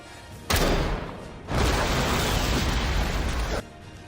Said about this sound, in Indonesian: ledakan terjadi sangat amat dahsyat